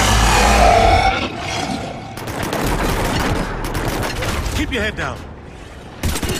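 Bursts of gunfire and automatic weapon fire crackle through a Mass Effect 3 combat scene, loud and continuous with booming impacts, while voices shout over the shooting.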